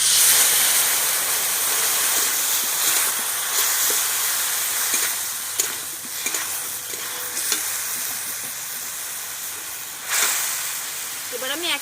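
A cumin and mustard paste hits hot oil in a pan with a steady, loud sizzle and frying hiss that runs throughout, broken by a few sharper crackles and spatters.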